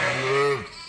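A Suffolk ewe in a barn bleats once for her lamb, a close, loud, wavering call under a second long.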